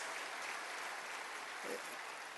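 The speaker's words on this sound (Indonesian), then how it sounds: "Berikan tepuk tangan bagi Tuhan kita" Faint, distant congregation applause at a church service, a steady soft patter of many hands clapping across the whole stretch, with no voices heard.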